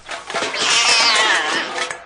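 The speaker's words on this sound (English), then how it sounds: "Who let that cat in here?" A cat meows loudly and drawn-out, a single rising-and-falling wail near and alone, used as a radio drama sound effect for a cat found in a bag.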